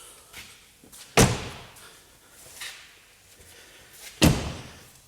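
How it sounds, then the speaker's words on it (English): Two car doors on a Land Rover Discovery slam shut, about three seconds apart, each a sharp, loud thud with quieter handling noises between. "So shut the doors."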